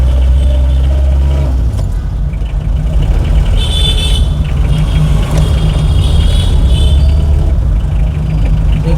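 A vintage Fiat Padmini drives with a loud, steady engine drone and road rumble filling the cabin. Faint rattles and shifting tones rise above the constant low hum.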